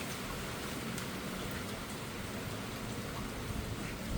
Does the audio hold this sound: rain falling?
yes